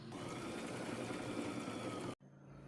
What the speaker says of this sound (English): I'm going to slide it into my machine, and with a 1/4 inch seam allowance, sew the lining to the bag